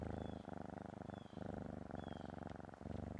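A cat purrs continuously and close up, a steady rumbling with a few brief breaths between cycles, heard alone with no talking.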